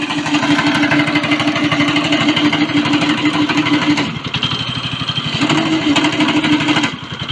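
A go-kart engine bought off eBay running loud and close in a rapid, buzzing putter with a steady tone, dipping briefly around the middle before picking back up.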